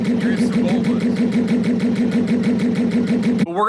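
Sebulba's pod racer engine from Star Wars The Phantom Menace throbs in a fast, steady pulsing rhythm, loud and near, a chugging mechanical drone that ends abruptly with a brief rising whine.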